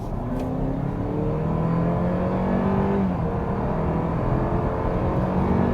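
A 2021 Opel Insignia GSi with all-wheel drive accelerates hard from 50 to 100 km/h, a steady loud engine drone rising in pitch with a gear shift midway, heard from inside the car with road noise and no talk.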